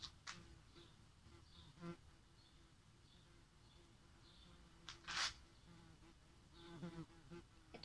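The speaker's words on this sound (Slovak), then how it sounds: "mě ta včela leze na nervy" A bee buzzes faintly around an outdoor spot, rising in short, thin bursts against quiet background noise, with a few sharper clicks and a brief louder rustle partway through.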